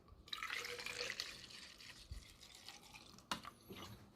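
Water poured into a car's cooling system on a Sunday afternoon, a faint splashing trickle that runs for a few seconds, then a couple of brief sharp knocks and drips near the end.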